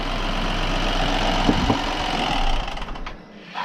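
BMW N13 engine idling steadily after an oil pump chain repair, a smooth continuous hum with a low drone and no rattling, loud and close, alone before easing off near the end.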